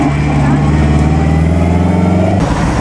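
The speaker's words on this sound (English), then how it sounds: "There's a Maserati coming behind us. It's really hammered." A Maserati race car on the Mille Miglia road rally closes in from behind with a loud, droning engine note that holds steady, then cuts off near the end. Talk is heard over it.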